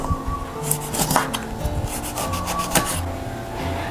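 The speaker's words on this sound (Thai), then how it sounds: "ให้เราหั่นมะนาวแล้วบีบมะนาวใส่ลงไปเลยค่ะ" A knife slicing through a lime on a wooden board while making Thai shrimp-paste chili dip, with close, short scraping and rubbing cuts in an uneven rhythm and no talking.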